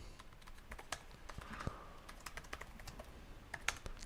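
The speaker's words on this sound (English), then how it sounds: "Keyboard feels great to type on." Keys clatter on an Asus Zephyrus G15 gaming laptop keyboard, a steady run of light, close taps with a few sharper clicks and no talking.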